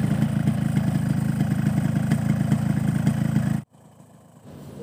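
Warm two-stroke engine idling on Orange Tropical 2T oil gives a steady, close, loud putter with a fast even pulse for about three and a half seconds, then cuts off abruptly into a faint low hum.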